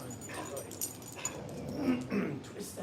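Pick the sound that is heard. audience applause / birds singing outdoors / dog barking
dog barking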